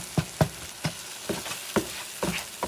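Cod mixed with egg sizzles in a frying pan over medium heat while a spatula pushes it around, making about six short scraping, stirring strokes at a steady rhythm, up close and with no talking.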